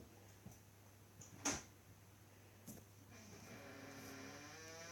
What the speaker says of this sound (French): désolé pour le bruit de la porte.